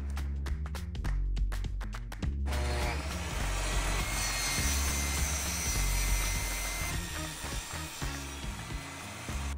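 A power saw rips wooden boards down to width for a winter bee barn hive, cutting loudly and continuously after a couple of seconds of sharp mechanical ratcheting clicks.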